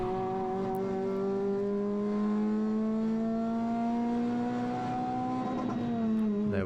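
A Renault Clio RS 200 on a track holds high revs against the rev limiter, a strong buzzing engine note with steady harmonics that climbs slowly, then drops and cuts back near the end, with no talk.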